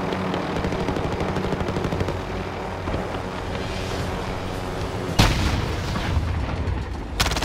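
Sustained gunfire from Call of Duty: Modern Warfare, loud and dense with rapid bursts and heavy booms throughout, sharpening into louder blasts near the end, with no voices.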